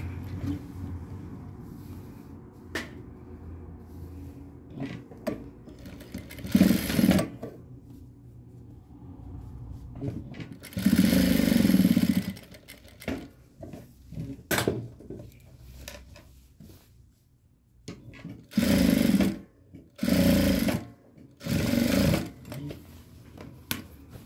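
A sewing machine stitches a kameez neck design in several separate bursts, each a loud steady whirring run of a second or two, with quiet handling pauses and small clicks between them.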